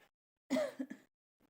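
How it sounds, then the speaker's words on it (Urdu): One short burst of coughing from a woman with a bad cough at home in the early morning, a sharp double hack close to the microphone, surrounded by near silence. "ہمیں بہت زیادہ کھانسی ہو رہی ہے"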